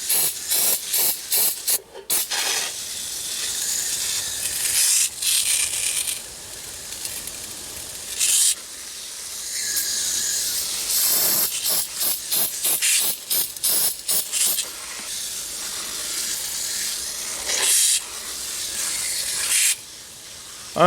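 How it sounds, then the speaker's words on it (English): A can of foam coil cleaner sprays onto an indoor air conditioning unit in long hissing bursts with brief pauses between them, loud and close, with no one talking. "You just spray that foam on there."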